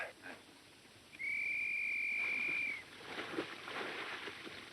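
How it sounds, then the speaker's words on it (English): A single sustained whistle signal from a 1945 war film, a steady clear pitch held for about a second and a half, loud and alone over quiet background hiss. "There's Tyne's whistle right on the nose."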